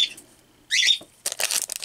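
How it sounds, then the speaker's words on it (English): Pet birds squawk indoors in a room where baseball cards are being opened. Short harsh calls come in two or three close bursts mixed with rustling, and no one speaks. "Sorry about my birds."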